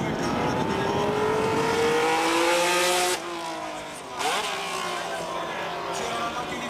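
A Ferrari Formula 1 car from the 1970s, driven by Niki Lauda at a Ferrari 60th anniversary demonstration, revs and shifts up through the gears, loud and close before fading. A commentator talks over it.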